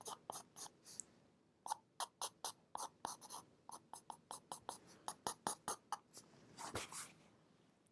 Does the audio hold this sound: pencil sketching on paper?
yes